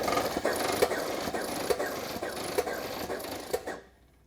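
An air-driven airless spray pump runs with its valve open, giving a steady mechanical hum punctuated by regular pulsing strokes roughly once a second before cutting off abruptly.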